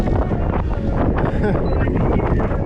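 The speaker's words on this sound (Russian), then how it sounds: "О, да, серьезный ветер." Strong gusting wind buffets the microphone on a spring cycling route in Crimea, a loud, rumbling, constant roar with uneven swells, and a voice is faintly audible beneath it.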